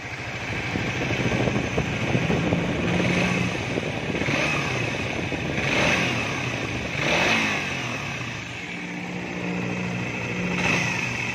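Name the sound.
motorcycle engine revving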